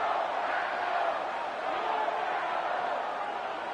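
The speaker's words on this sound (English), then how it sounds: "the crowd getting into it as we come up on a big third down" A stadium crowd roars at an NFL Bears vs Packers game on the frozen tundra, a dense, sustained wash of cheering and noise at an even level, heard from a distance.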